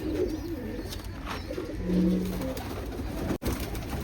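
Pigeons, including a black hen, cooing at close range in a loft, soft low rolling coos repeating steadily over a faint background hum.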